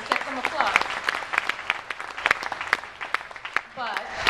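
Scattered applause from diners at a fundraising dinner in New York City, sharp irregular claps of moderate loudness mixed with occasional voices across the room.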